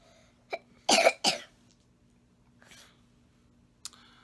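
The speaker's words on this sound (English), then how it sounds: "this is the second week with the cough" Two or three sharp coughs close by, followed by a softer throat sound and a faint click in an otherwise quiet room.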